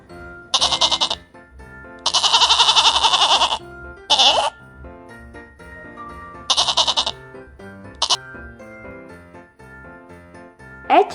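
A goat bleats repeatedly, loud and close, in several drawn-out calls and shorter cries separated by pauses, with soft jingling tones underneath.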